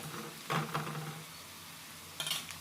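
Onions and whole cumin frying in a pan sizzle quietly and steadily, broken by two short scraping, clattering bursts of a utensil stirring against the pan; no voices.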